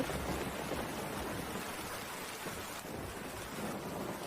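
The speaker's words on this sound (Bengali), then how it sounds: "বাবা কুনাল বৃষ্টির জলে আর ভিজিস না" Steady rain pours down with a constant hiss and patter, filling the whole clip, with a low rumble beneath suggesting distant thunder.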